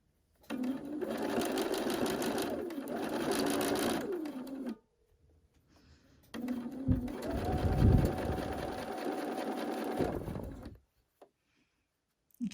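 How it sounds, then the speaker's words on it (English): A sewing machine stitches around the edge of a table napkin with mitered corners, running in two steady whirring stretches separated by a short pause, close and loud without talk. "we're going to sew all the way around this napkin"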